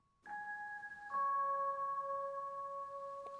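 Reversed Rhodes electric piano octaves in a beat production, two sustained tones swelling in one after another with a soft onset and a clean, bell-like ring over a quiet background.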